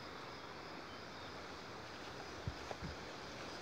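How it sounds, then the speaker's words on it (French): Steady broadband wind rushing across the microphone at an organic tobacco plantation, constant and fairly loud, with a couple of brief soft knocks near the end. "Donc aujourd'hui il y a du vent et il y en a déjà eu."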